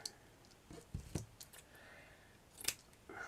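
Scissors snipping paper into a square for a craft flower, heard as a few short, close cuts and rustles spread across a quiet moment.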